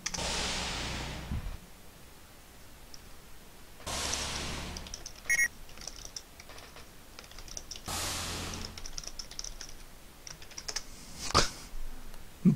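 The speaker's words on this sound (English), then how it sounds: "Some good typing there." Keys clatter in steady bursts of typing on a computer keyboard, close and fairly quiet, with scattered sharper clicks and whooshing swells between.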